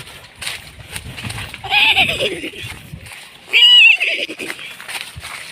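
A horse neighs twice in loud, close whinnies, the second shriller and sharper, amid faint outdoor background noise and scattered clicks.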